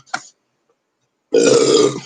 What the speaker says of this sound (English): Sorry, I didn't mean to belch in your face.